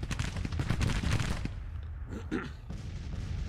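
Volleys of skirmish gunfire in a Grand Tactician Civil War battle, with dense rapid cracks and pops in the first half that thin out into scattered, more distant shots.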